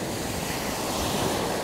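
Cold November ocean surf washing onto a beach in the USA, a steady broadband roar of waves with some wind buffeting the microphone, no voices.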